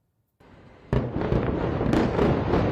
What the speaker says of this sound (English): An explosion lights up the night sky in Beirut.